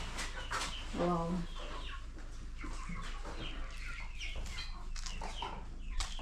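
Chickens cluck in a coop at a rural Kenyan farm, a few close clucks and calls under light background noise, with a brief exclamation from a person.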